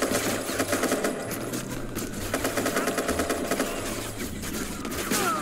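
Rapid automatic gunfire from the video game Watch Dogs Legion, dense bursts of machine-gun shots rattling continuously and loudly throughout with no talking.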